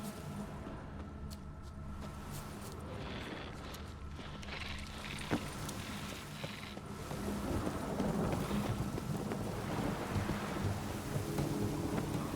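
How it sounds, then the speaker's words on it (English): Thunder rumbles and rain pours steadily during a thunderstorm in the video game The Witcher 3, a low rolling roar that swells louder toward the end over continuous hissing rain. "A storm, damn it."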